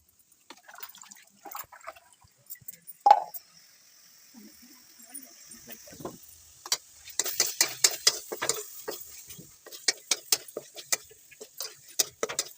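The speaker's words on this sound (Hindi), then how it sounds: "तेल बर्तन तातिनी तेल टी गरम होला परे हमर बरा छणा जिवो।" Vada, fried bara fritters, sizzle in a pan of hot oil in a home kitchen, giving a steady crackling hiss with sharp pops and spitting that grow denser toward the end, along with occasional clinks of a utensil.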